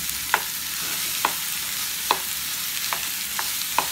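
Tomato paste frying in a pan and being stirred: soft, steady sizzle with a series of sharp scraping taps at irregular intervals, close by, with no voices.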